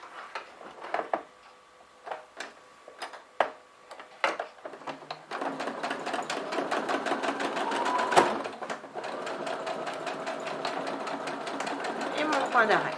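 A sewing machine stitching fabric for a Halloween pyramid pouch starts with a few isolated clicks, then runs into a close, steady, rapid stitching rattle that continues to the end.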